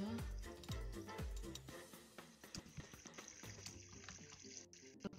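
Flowing water in the Minecraft video game, spilling through a metro station under construction, makes a steady, fairly close splashing trickle for about five seconds, with a few deep thuds near the start and no talking over it.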